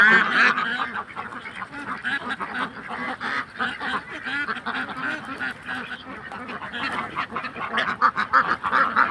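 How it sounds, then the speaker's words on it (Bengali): A flock of Belgian ducks on a river keeps up a dense, continuous chorus of nasal quacks and honks, many birds calling over one another close by, with no talking. "দেখেন এক সারিভাবে কত সুন্দর হাঁসগুলো নদীর ভিতরে অবস্থিত হাঁস"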